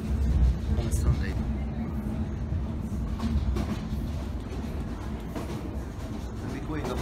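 A suburban train rumbles steadily along the rails at about 80 km/h, with low continuous rolling noise and faint clicks from the track, heard from inside the carriage.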